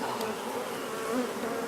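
Honey bees buzz steadily throughout a spring hive inspection, a dense, continuous drone close to the open hive with no talking.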